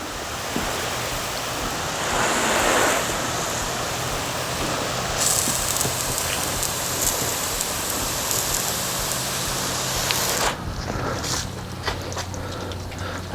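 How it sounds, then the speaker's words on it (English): Water sprays hard onto the roof of a 2006 Jeep Grand Cherokee and runs out of the gutters in a dense, continuous hiss and patter close by, with brief shifts in the spray near the end and no talk. "I can hear the water running out of the gutters pretty good"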